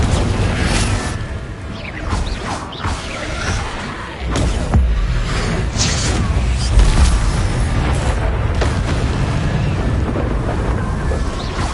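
Confringo blasting curse explosions in the Hogwarts Legacy video game, heard as loud booming blasts and rumbling, sustained roaring over nearly twelve seconds, with several sharper bursts punctuating the continuous noise.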